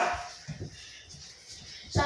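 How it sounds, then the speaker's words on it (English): A dog gives a few short, scattered barks and yips, fairly faint, with brief gaps between them. "Dog is barking!"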